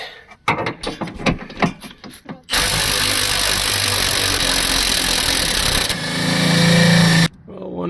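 Impact wrench on a stuck bolt of a Ford Excursion: a loud, sustained broadband whir and rattle that runs steadily for several seconds, then shifts to a heavier hammering tone before cutting off, with someone talking briefly beforehand.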